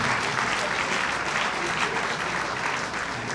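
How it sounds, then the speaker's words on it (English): Dense, sustained applause from a large crowd at a Greek Independence awards gala in the Ziegfeld Ballroom, loud and even throughout with no break. "Ladies and gentlemen, a round of applause for Mr. Marinakis."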